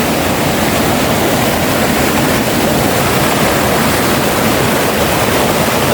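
River water rushing steadily during a crossing of a large, cold river, a loud, continuous broadband roar like close whitewater that holds unbroken with no talk.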